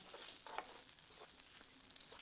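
Garlic fries gently over medium heat in a skillet for a creamy salmon sauce, giving a soft, steady sizzle with faint stirring scrapes, quiet and alone with no talk.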